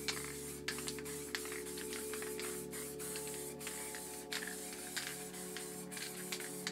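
Montana white spray paint hissing from a can through a lid stencil, in repeated short bursts and longer sprays, close and moderately loud with no talking.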